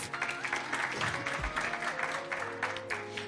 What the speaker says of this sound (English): Let's give ourselves a hand of applause